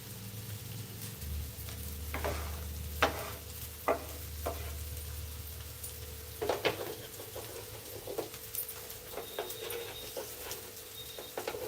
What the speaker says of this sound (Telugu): ఆ తర్వాత గోరుచిక్కులు వేసుకొని ఒక ఫైవ్ టెన్ మినిట్స్ ఇలా మనం రోస్ట్ చేసుకుంటే